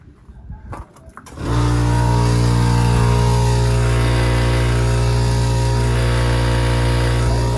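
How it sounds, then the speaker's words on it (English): An old air compressor kicks on after a second of quiet rustling, then holds a loud, steady, close droning hum to the end. "That my old compressor."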